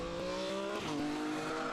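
Race cars, a Mark Cripps BMW and a Graham Richardson Honda Civic, battle at Snetterton in a Super Saloons and Tin Tops race, their engines a loud, continuous sustained roar with slight pitch shifts.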